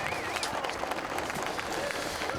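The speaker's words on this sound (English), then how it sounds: "the applause around the Brands Hatch circuit then as the podium presentations are about to get underway" Spectators around the Brands Hatch circuit applaud after a DTM touring-car race ahead of the podium ceremony, a faint, distant wash of clapping heard under a commentator's voice.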